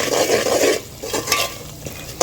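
Nuts fry lightly in a pan for suji halwa, giving a close, continuous sizzle with brisk stirring and spoon scrapes against the metal, fading briefly before a final sharp scrape.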